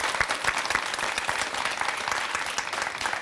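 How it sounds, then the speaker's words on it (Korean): A talk-concert audience in Busan breaks into hearty applause, a thick, lively crackle of many hands that stays loud and steady throughout, with no talking over it. "우리 모두에게 박수를 보낼까요?"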